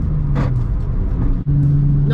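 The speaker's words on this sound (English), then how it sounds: "Thankfully, it shifts right into second, shifts right into third, fourth gear grinds." A used car's manual transmission going up through the gears, with steady engine drone and a brief grind as fourth engages; close and continuous, with a short dropout midway.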